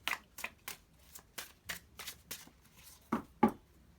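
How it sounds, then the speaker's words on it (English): Tarot cards being shuffled in a series of crisp riffling bursts, roughly a dozen quick flurries with two louder snaps near the end, close up and alone. "Let's just give the cards a really good shuffle."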